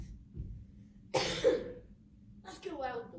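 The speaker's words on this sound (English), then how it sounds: "masculine cough." A man gives two deep, rough, masculine coughs up close, a short quiet gap between them, in a staged scene about smoking.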